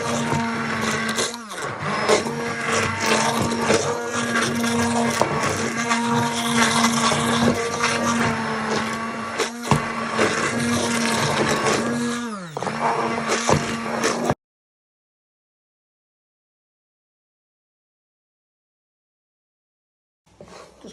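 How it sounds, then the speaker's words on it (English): Hand blender blitzing ginger, onions and carrots for a katsu curry sauce, a loud steady motor whir with a low hum for about fourteen seconds, then cutting off into silence. "we're just going to blitz the ginger, onions and carrots. Use a hand blender"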